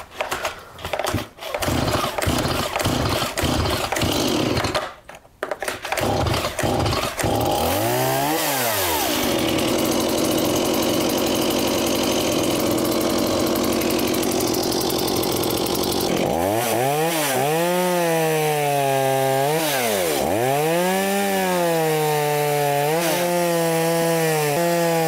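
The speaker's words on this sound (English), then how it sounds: "start up the saw and I'm going to test it out in some small logs outside" A Stihl MS170/180 chainsaw is pull-started outdoors with a few sharp cranks, then catches, idles and revs loudly, bogging and rising in pitch as it cuts through small logs, close and continuous.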